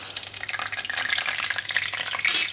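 Whole garam masala spices and dried red chillies frying in a pot for khichuri while being stirred, a loud close crackling sizzle with rhythmic scraping strokes and a brief louder burst at the end.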